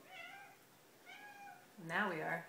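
Cat meowing indoors at a child's mealtime: two soft, drawn-out meows, then a louder, closer third.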